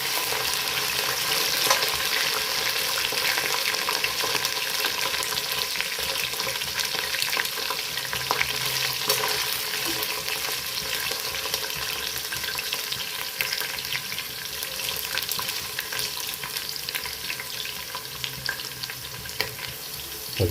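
Green chillies, onions and mint frying in oil for chicken biryani give a loud, steady sizzle with constant scraping and stirring of a spoon in the pan throughout.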